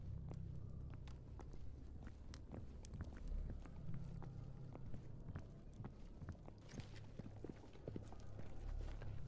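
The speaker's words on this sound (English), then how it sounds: "Why do I hear footsteps?" Footsteps in the video game S.T.A.L.K.E.R. GAMMA, a run of irregular, crisp steps over a low ambient rumble, close and fairly distinct, with no talk.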